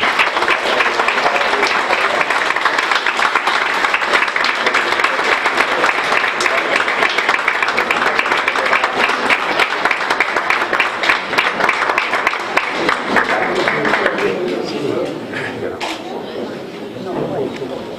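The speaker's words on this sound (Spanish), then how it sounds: "Un fuerte aplauso para ellos." Festival presentation crowd applauding as a commemorative plaque and bouquet are handed over by the mayor: loud, dense, sustained clapping for about fourteen seconds, then fading into murmuring chatter.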